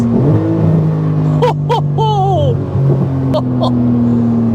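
A Porsche 911 GT2RS engine drones loudly as the car accelerates, its steady roar shifting pitch through gear changes, while a man exclaims excitedly over the top.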